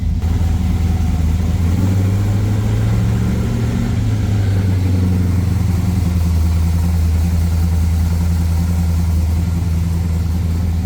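A car with a 308 engine and a Harrop Truetrac differential in a 10 bolt Salisbury axle runs on a dyno, its engine and driveline giving a loud, steady low drone with a slight rise and fall in pitch.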